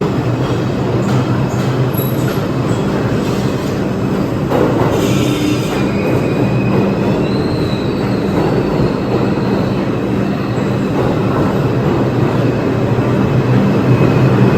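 A New York City subway number 2 train rumbles loudly and continuously into the station, with high metallic wheel squeals rising midway.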